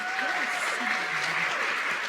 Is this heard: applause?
yes